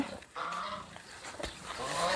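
Geese honking on a farm among ducks and chickens, a few distant, faint calls over a quiet outdoor background.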